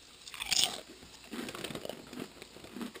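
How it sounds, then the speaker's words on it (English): Crunching bites of thick, heavy potato chips in a kitchen, a sharp crisp crunch up close followed by several softer chewing crunches, with no talking. "you should use a heavier potato chip because they're nice and crunchy"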